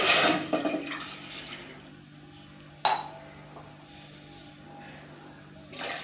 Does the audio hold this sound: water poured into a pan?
yes